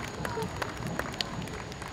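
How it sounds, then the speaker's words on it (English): Outdoor crowd at a community fireman's parade gives a round of scattered applause, loose uneven claps at moderate distance over a steady background murmur of spectators' voices. "A big round of applause for that."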